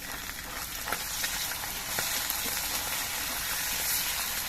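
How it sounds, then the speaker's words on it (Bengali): Small fresh Ganges mourala fish fry in a pan, giving a steady, dense sizzle with occasional crackling pops throughout, close and alone. "আমি সবগুলো মাছ একবারে ভাজছি না আমি দুবারে মাছগুলো ভেজে নেব"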